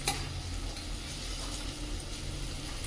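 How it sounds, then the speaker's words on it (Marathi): Mixed-dal vadas of moth beans, mung, urad and chana are tossed in oil in a pan, making a continuous frying sizzle with stirring rustles throughout. "हे वडे पण त्यामध्ये छान असे परतून घेऊया व्यवस्थित परतून घ्यायचे"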